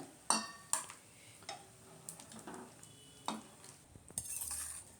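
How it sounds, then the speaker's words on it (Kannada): Tondekai (ivy gourd) gravy is moved into a bowl, with a spoon or ladle clinking and scraping against metal in several short, sharp knocks and softer stirring in a quiet kitchen. "ಈಗ ಇದನ್ನು ಒಲೆ ಆಫ್ ಮಾಡಿ ಒಂದು ಬೌಲ್ಗೆ ಸ್ವಲ್ಪ ಶಿಫ್ಟ್ ಮಾಡೋಣ"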